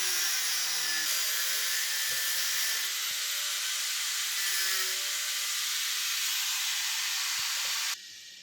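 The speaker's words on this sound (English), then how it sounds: "I need to cut these brackets, plates, whatever you want to call it, into a bit of a strange shape" A power tool cuts metal brackets and plates for a car subframe mod, a loud continuous high-pitched grinding rasp with a few knocks, stopping abruptly near the end.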